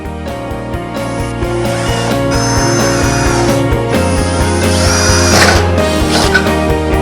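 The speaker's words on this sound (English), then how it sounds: "then I'll drill a hole so the hole will connect to this hole right here" A power drill bores a hole through wood, its motor whirring loudly and continuously with a shifting, grinding pitch and some mechanical rattling partway through.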